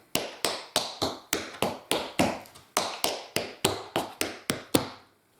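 Tap shoes strike a hard floor in quick two- and multi-count riffs, sharp bright clicks falling in steady bursts about every third of a second, close and clear with no talking.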